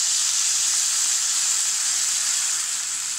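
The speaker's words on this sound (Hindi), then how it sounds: "दो मिनट दाल को अच्छे से भून लीजिए।" Lentils (dal) roast in a pan, giving a steady, close, loud sizzle that stays even and unbroken throughout with no talk.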